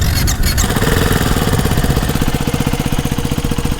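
A Ducati 698 Mono single-cylinder motorcycle engine fires up and settles into a steady, loud idle, with a rapid even thumping pulse close to the listener and brief starter noise at the beginning.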